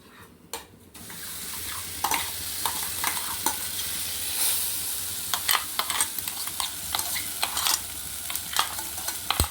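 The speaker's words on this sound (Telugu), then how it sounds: "పోపు వేగిపోయిన బెండకాయ వేస్తున్నాను." Okra dropped into a pan of sizzling Telugu-style tempering for pachadi, stirred with steady scraping clicks over a continuous close frying hiss.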